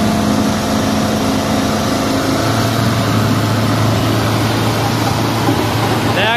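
A Fiat tractor engine runs steadily throughout a tochan pulling contest between a 2017 model and a 1979 model. It is a loud, continuous low drone with a strong rumble, and crowd noise and voices sit underneath it.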